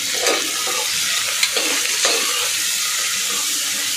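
Sliced onion with salt fries in a pan, giving a continuous hissing sizzle with a few light scrapes and clinks, fairly close and steady throughout.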